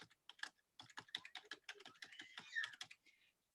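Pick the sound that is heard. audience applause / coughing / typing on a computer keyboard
typing on a computer keyboard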